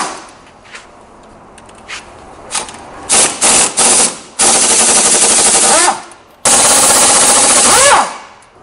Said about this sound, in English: you can remove the 12 bolts holding the cover on.